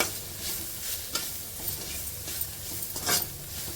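Garam masala gets stirred into a sizzling frying mixture in a pan, a continuous crackle of hot oil punctuated by scraping strokes of a spoon against the pan.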